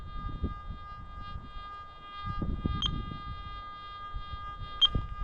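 A metal detector being ground balanced, sounding a steady electronic tone with two short sharp beeps, over low rumbling outdoor background noise.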